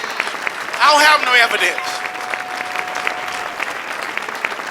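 A church congregation claps steadily throughout, a continuous patter of many hands under a preacher's loud, impassioned voice that rises in a sung phrase early on.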